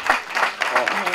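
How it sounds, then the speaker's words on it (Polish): Applause breaks out at a marathon award ceremony in Witunia, a short burst of clapping heard under a voice speaking. "Brawa."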